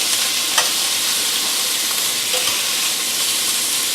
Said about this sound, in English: you see the pork chops are already searing really nicely